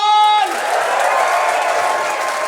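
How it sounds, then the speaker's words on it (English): An audience at a late-night comedy show breaks into loud sustained applause and cheering, a dense wash of clapping that rises as a held musical chord cuts off and stays steady to the end. "give them a massive round of applause"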